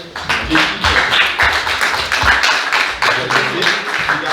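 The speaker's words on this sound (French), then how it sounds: "si vous voulez bien applaudir" An audience at a public debate on the Avenue Nationale crossing in Arnage claps loudly and fairly unevenly, with distinct individual claps audible and some voices among them.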